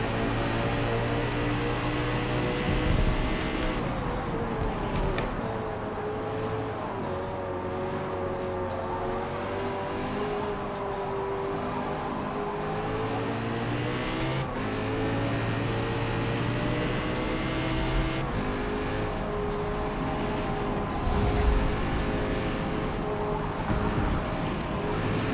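A race car engine in Forza Motorsport holding a drift: a steady droning engine note wavers in pitch as it revs and eases, loud and continuous with no talk.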